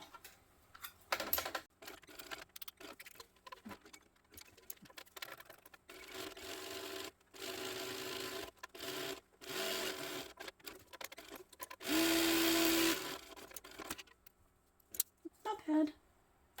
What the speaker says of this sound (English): I'm going to sew down the ends